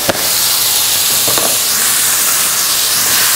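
Fermented fish (som pla) being stirred and cooked in a hot pan, giving a loud, continuous sizzling hiss with a couple of brief scraping knocks near the start.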